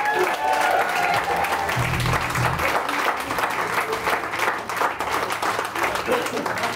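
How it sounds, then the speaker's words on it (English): Audience clapping at a rock and roll night, a steady wash of applause with voices and some low hum mixed in underneath. "give yourselves a big round of applause"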